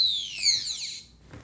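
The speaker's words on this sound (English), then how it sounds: "there's the buzzer" A high-pitched electronic buzzer on a model rocket flight computer chirps, sweeping and warbling for about a second, then cuts off, leaving quiet background.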